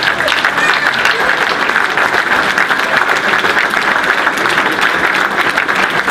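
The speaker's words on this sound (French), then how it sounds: "je voudrais que vous applaudissiez encore une fois les joueurs pour leur prestation" Spectators at a basketball game applaud the players after the match, loud, dense and unbroken clapping that fills the whole stretch at a constant level.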